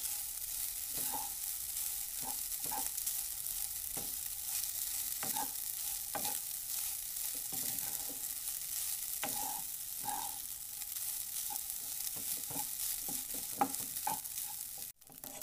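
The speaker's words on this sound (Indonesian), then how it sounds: "Aduk kembali supaya rata dan jangan lupa koreksi rasa ya" A spatula stirs fried rice seasoned with sugar in a hot pan, with repeated scraping strokes over a constant, close sizzle of frying.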